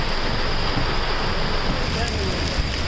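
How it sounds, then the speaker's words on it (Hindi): Heavy downpour over flooded streets of Gurugram, a dense, steady roar of rain and rushing water filling the whole clip with no break, fairly loud and unbroken throughout. "मूसलाधार बारिश और गुरुग्राम बन गया समंदर"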